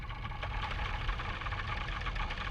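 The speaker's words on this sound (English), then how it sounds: "Captions, multiple G50s idling." Several G50 motorbike engines idle together in a steady, rough, throbbing drone that stays even in loudness throughout, with no voices.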